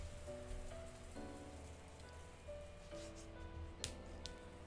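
Heavy rain in Higurashi no Naku Koro ni Kai, a constant soft hiss of downpour beneath faint sustained game music tones, with occasional brighter drop splashes.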